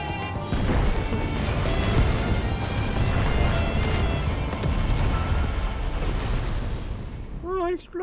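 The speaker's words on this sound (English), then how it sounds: "Oh, explosions!" A long, loud roar of explosions in Final Fantasy XIV: Endwalker rumbles and crashes continuously for several seconds, dense and booming, before tapering off at the end.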